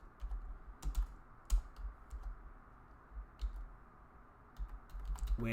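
Typing on a computer keyboard, scattered bursts of crisp key clicks with short pauses, close and fairly quiet, no talking.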